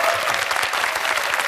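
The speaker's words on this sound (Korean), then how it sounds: "권영찬 멘토께 뜨거운 박수 부탁드리겠습니다" Warm applause from a talk-concert audience welcoming comedian and lecturer Kwon Young-chan, dense steady clapping throughout at fairly loud level.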